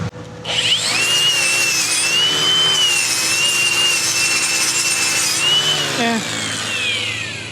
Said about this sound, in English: Well, let's take the slag off.